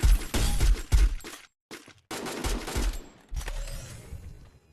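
Bursts of rapid automatic gunfire in a shooter video game, several loud volleys with brief silent gaps between them, close and alone without talk.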